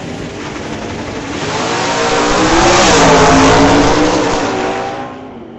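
A stick-shift 1964 Comet drag car at an old-time drag race, its engine roaring loud and steady as it revs up, swelling in the middle and easing slightly toward the end.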